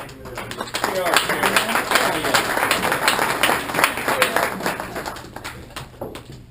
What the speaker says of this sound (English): Let's have a warm applause for our